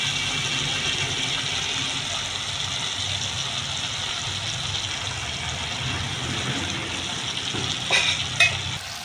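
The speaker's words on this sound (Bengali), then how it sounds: "একটু জল দিয়ে দেবো মশলাটা যাতে না পুড়ে না যায়।" Water added to a pan of frying tomato with cumin, ginger and green chili paste: a continuous loud sizzling hiss, steady throughout, with a couple of light clinks of a spoon near the end.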